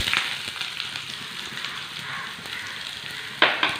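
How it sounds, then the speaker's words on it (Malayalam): Chopped onion fries in hot oil with mustard seeds, giving a steady close hissing sizzle throughout with a brief louder crackle near the end. "ഇതിലേക്ക് നമുക്ക് സവാള ചേർത്ത് കൊടുക്കാം."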